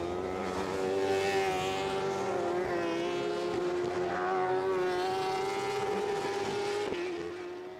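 A racing motorcycle at the Imatra road race screams past at high revs, a loud sustained whine that wavers in pitch as it passes close by, with no voices over it.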